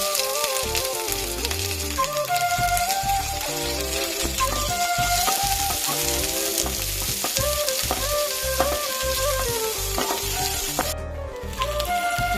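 Onions and green chillies frying for Kerala kadala curry: a steady, loud sizzle with stirring scrapes runs throughout, over a melodic backing.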